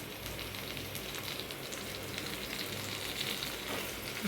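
Grated raw mango with turmeric and dried red chillies sizzles in a hot pan, a soft, steady, rain-like frying crackle heard close with no speech.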